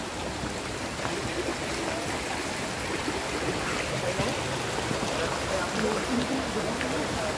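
A mountain river flows at a branching point on the trail to a crater, with light drizzle falling. The rushing water makes a steady, dense wash at even loudness from start to end, and a voice speaks faintly over it.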